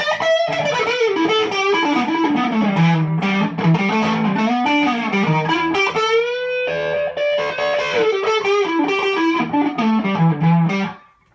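Electric guitar through a Catalinbread Naga Viper pedal, with moderate overdrive and less amp distortion, plays a continuous melodic riff of chords and single notes, full and steady, ending with a sudden stop.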